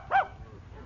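A single short dog bark from a radio drama sound effect sounds once, moderately loud and brief, over a faint background hum.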